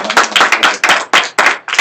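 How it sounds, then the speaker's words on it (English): An audience at a business meeting claps loudly in short, uneven bursts, with several rapid rounds of clapping close by and brief gaps between them. "We clap loud here."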